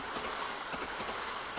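A train rumbling past in the visual novel game Steins;Gate, a continuous rolling rumble with faint clickety-clack of wheels on track, steady and fairly loud throughout.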